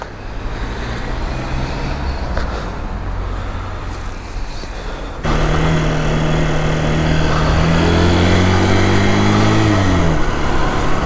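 A vehicle engine runs steadily on a winter ride, loud and close, then climbs to a heavier drone with rising and falling revs near the end, with no voices.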